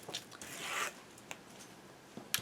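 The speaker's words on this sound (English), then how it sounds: "let me go ahead and take off all this tape backing" Tape backing being peeled off ATG adhesive strips while assembling a paper dessert mini album, heard as a few soft, close tearing and crackling rasps with a longer peel near the start and small ticks afterward.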